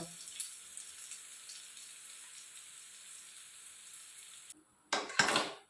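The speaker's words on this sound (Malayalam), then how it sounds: "ചോളത്തിൻ്റെ പൊടി വറുത്തതാണേലും ഇനിയിപ്പോൾ ഈ ചീനച്ചട്ടിയിലിട്ട് ഒന്നുകൂടെ വറുത്തെടുക്കും കേട്ടോ." Corn flour that was already roasted is being dry-roasted again in a cheenachatti wok in a village kitchen. A steady, even hiss runs for several seconds, breaks off briefly, then returns as louder, rougher scraping bursts.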